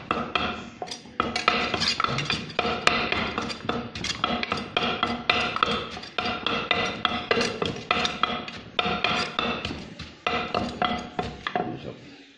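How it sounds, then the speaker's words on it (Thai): Grilled mackerel is pounded in a mortar for a Thai Isan mushroom pon dish, a fast steady run of hard, ringing pestle thuds and clinks that repeats close and loud for the whole stretch, with no talking. "ตำปลาทูให้แหลกแล้วก็เฮ็ดใส่นะครับ"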